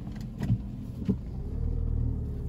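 A car pulls away slowly in third gear on snow, its engine a low, labouring rumble that swells and steadies as it strains to gain speed, with a few dull knocks early on and no talking.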